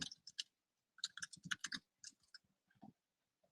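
Typing a question on a computer keyboard, a quiet patter of light key clicks in quick uneven bursts with short pauses between them.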